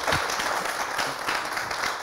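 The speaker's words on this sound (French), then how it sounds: "On applaudit encore pour Kapala" Studio audience on a Burkina Faso television comedy show applauds steadily for Kapala, a dense, even clatter of many hands filling the whole moment without pause.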